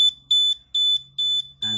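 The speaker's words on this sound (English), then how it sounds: "as you can hear, the alarm goes off" An OD2 oil leak detection alarm sounds after its optical sensor touches oil, giving four sharp, high electronic beeps in a regular on-off rhythm, close and loud, before a brief lower-pitched burst.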